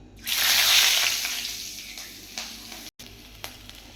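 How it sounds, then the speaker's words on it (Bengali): Nigella seeds and green chillies dropped into hot oil for a fish curry tempering, a loud close sizzle that bursts up at once and then slowly dies down into a softer crackle. "এবার তেলের মধ্যে দিয়ে দেবো কালো জিরে, কাঁচা লঙ্কা ফোড়ন।"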